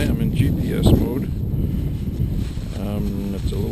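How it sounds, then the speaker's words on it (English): Gusty wind buffets a microphone outdoors in cold weather, a close, loud, low rumbling roar that swells and dips, with voices talking over it. "It's a little bit windy out."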